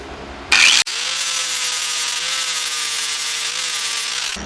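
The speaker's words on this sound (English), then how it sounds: "for right now we're just going to grind it nice and smooth and flat on the top part" A power grinder smooths the top of a metal engine part flat: a brief harsh burst, then a sharp cut, then a steady loud high-pitched whine of grinding that holds to the end.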